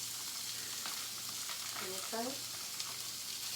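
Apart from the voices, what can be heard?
hot sausage frying in a pan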